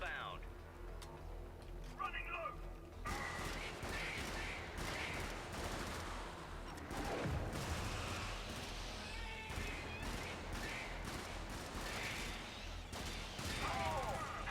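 An automated turret in the Helldivers game fires rapid bursts of gunfire under a constant game soundscape, with dense repeated shots across the whole stretch and a voice talking over it.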